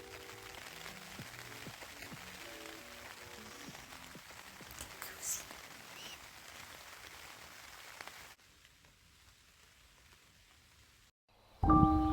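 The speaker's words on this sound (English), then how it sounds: "Just listening to the rain." Steady rain falls on and around a tent at a campsite, a continuous close patter that runs for several seconds, drops to a quieter hiss, then gives way to a brief louder burst at the end.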